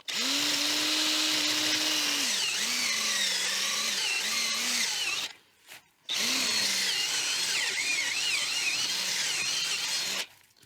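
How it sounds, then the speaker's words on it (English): A power drill bores holes into a steel axe head during restoration, a steady high whine under load that dips in pitch, stops briefly, then resumes for a second long run, close and loud. "I've used multiple bits, different sizes, to get as many holes drilled into that."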